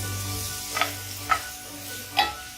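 Red chili and coriander powder are stirred into potatoes in a pan over medium-low flame, a low sizzle underneath with a few distinct scraping strokes of the spoon.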